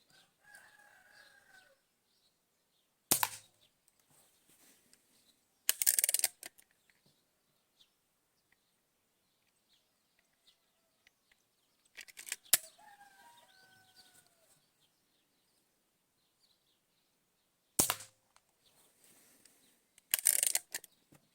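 IZh-53M air pistol fired outdoors: several sharp, loud shots in irregular groups, with long quiet gaps and faint fowl calls nearby.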